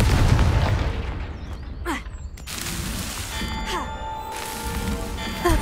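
A Confringo spell explosion in the Hogwarts Legacy video game: a loud, close fiery boom up front, followed by crackling bursts and whooshing effects over a rumbling background.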